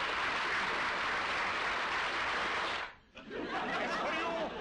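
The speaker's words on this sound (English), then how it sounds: "You may applaud now" An audience bursts into dense, steady applause that cuts off abruptly and then resumes at full strength, with faint chuckles and chatter mixed in.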